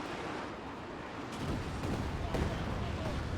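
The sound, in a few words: Panzerwerfer rocket artillery barrage in the video game Company of Heroes 2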